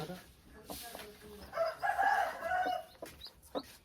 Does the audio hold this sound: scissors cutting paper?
no